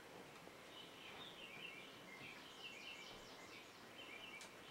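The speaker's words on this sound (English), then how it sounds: "Listen to the birds singing." Faint birdsong chirps and trills drift over a steady outdoor hiss by a lake, heard from a deck, distant and soft, with repeated short calls.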